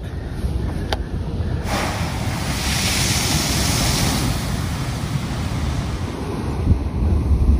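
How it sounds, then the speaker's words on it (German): Ocean water surges through a rock blowhole on the Moroccan coast with a broad, hollow whoosh over constant wind rumble and crashing surf. "Das Teil ist wie ein Kamin. Und wenn eine Welle kommt, dann gibt es so eine Druckluft."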